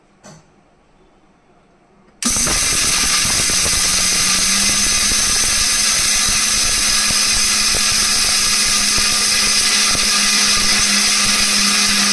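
A mixer grinder grinds dry spices for idli podi. After a couple of quiet seconds it starts up into a loud, steady, close whirring roar that continues to the end.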